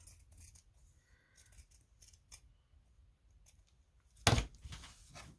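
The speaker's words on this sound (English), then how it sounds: "I'm going to trim the selvages off now. Some scissors" Scissors trimming the selvage edges off a long strip of quilt fabric, a few quiet close snips and rustles ending in one sharp, louder snap-like cut near the end.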